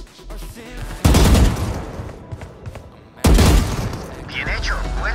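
Two loud gunfire bursts at bots in the Valorant training range, each a sharp blast with a ringing tail, separated by about two seconds, against quiet game ambience.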